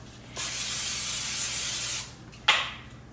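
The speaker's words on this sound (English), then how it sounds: "now we're gonna spray with olive oil" A single long hiss of olive oil cooking spray into a pan lasting about a second and a half, followed by a short sharp spurt, close by.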